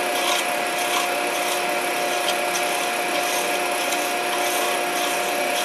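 A skew chisel cutting acrylic spinning on a wood lathe gives a continuous, even scraping hiss over the steady whine of the lathe motor, close by with no pauses.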